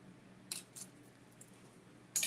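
A container of fresh mozzarella in brine cut open, probably with scissors, giving a few faint, crisp snips spaced apart over a quiet background.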